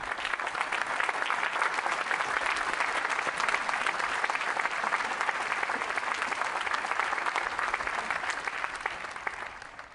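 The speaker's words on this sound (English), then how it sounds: "Please join me in a round of applause for these students and the entire class of 2011" A large crowd at a university graduation ceremony applauds the class of 2011, sustained dense clapping filling a broad space for the full ten seconds before tapering slightly.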